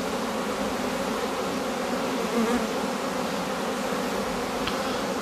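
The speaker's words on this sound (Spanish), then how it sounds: "las abejas comienzan ya a limpiarla, a aceptarla" Honey bees buzz steadily around a queen cage during requeening, a dense, close, continuous hive drone with no voices.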